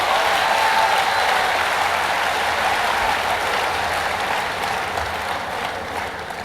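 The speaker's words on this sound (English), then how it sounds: "Somebody ought to clap unto the Lord." A church congregation claps steadily for several seconds during a sermon, a dense wash of many hands filling the room, with a few voices faintly underneath.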